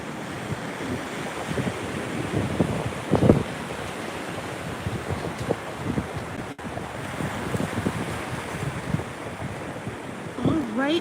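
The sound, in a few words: ocean waves crashing on a beach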